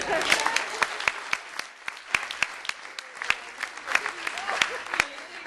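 Scattered, uneven hand claps from a seminar audience ring out sharply over a murmur of crowd noise and talking voices, never building into a full ovation.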